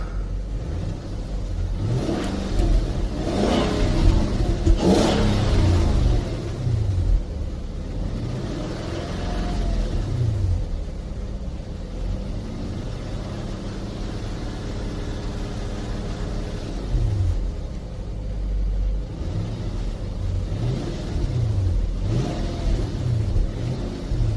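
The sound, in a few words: car engine revving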